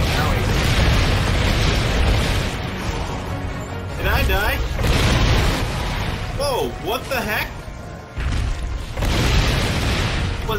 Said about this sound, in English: You guys like everything exploding?